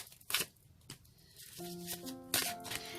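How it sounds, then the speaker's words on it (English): A deck of tarot cards is shuffled in a few quick riffling bursts, close and fairly quiet, with faint tonal background sound between them. "One more shuffle, they say."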